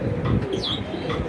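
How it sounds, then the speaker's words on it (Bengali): Pigeons coo close by in soft, throaty bursts, with a brief chirp-like sound in the middle and no talk. "আগে আপনাদেরকে একটা কবুতর দেখায় আমার এই যে দেখেন এই যে কবুতরটা"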